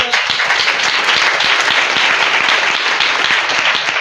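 A congregation at a prayer service applauds loudly, dense overlapping claps with some rhythmic beats from the crowd, sustained and close without pause.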